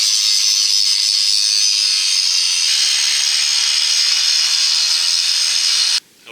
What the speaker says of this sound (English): Here are my 4-inch grinders and my new 7-inch grinder.